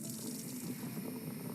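Water runs steadily from a tap, a soft continuous flow that stays even throughout with no voices over it.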